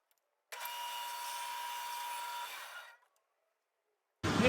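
A bandsaw cuts a thin wooden piece for a cutting board, making one steady whining cut of about two and a half seconds that fades out. Silence comes before and after, then a sudden loud noise at the end.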